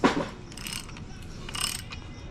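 Crankshaft of a Mitsubishi EVO X 4B11 engine spun by hand at the pulley bolt, a brief ratcheting mechanical whir at the start and another smooth rotating rustle a second later, close and moderately quiet.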